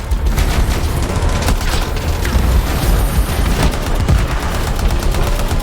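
The Predator Cannon heavy weapon of a Ranger javelin in the Anthem video game fires in a loud, relentless stream of rapid booming shots, near and continuous for several seconds.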